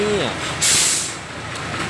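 A used truck's air brake releases a loud, sharp burst of hiss that lasts under half a second, closely miked. Engine rumble runs beneath it, and someone talks just before the burst.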